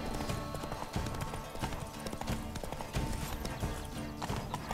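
Roach the horse's hooves clip-clop in a steady, rapid rhythm within Witcher 3 gameplay, loud and close over dense game sound.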